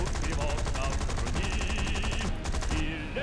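Aircraft guns firing at an anti-aircraft ground unit in War Thunder, a steady rapid stream of machine-gun fire over a loud continuous engine drone.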